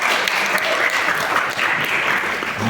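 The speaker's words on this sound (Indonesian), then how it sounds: "Mudah-mudahan semangat dalam tepuk tangannya tadi juga membangkitkan semangat kita" Audience applause at an IPNU and IPPNU seminar: sustained, dense clapping from a crowd filling the room at steady volume, with no voices over it.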